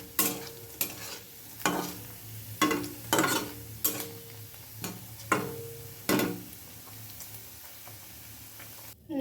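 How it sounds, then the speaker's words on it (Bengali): Paneer pieces fry in a pan with a steady sizzle, punctuated by regular, sharp scrapes and taps of a spatula roughly every second, close and moderately loud with no talking. "এইরকমভাবে পনিরগুলো ভেজে নিতে হবে।"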